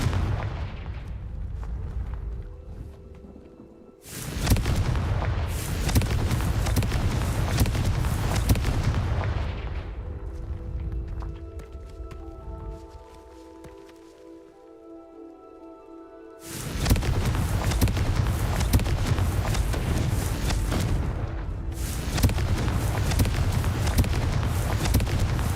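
Confringo fire spells burst in Hogwarts Legacy, heavy booming explosions with rumbling blasts that go on for several seconds, fade into quieter ambience and then erupt again loud and close.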